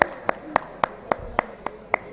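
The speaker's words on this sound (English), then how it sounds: "Let's welcome him on stage with a big round of applause" Slow rhythmic clapping at a bio energy summit as a moderator is welcomed on stage: eight sharp, evenly spaced claps, close and distinct, roughly three per second, over a quiet hall.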